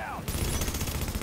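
A light machine gun fires a sustained, rapid burst at close range in The Division, the shots running together into a dense, steady rattle.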